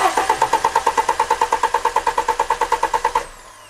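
A car engine cranks with a rapid, even run of loud starter chugs for about three seconds, then the whir fades away without the engine catching.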